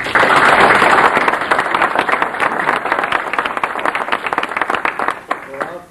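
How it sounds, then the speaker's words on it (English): Dense applause from an audience at the 1997 Hudson Hot Air Affair balloon festival honours Carla and her staff. It starts loud and full, then thins into scattered claps and fades out. "Carla and her staff deserve a nice round of applause for that"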